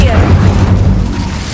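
Incendio fire spell effect, a loud close booming whoosh with a rumbling low roar that briefly holds, then eases slightly toward the end.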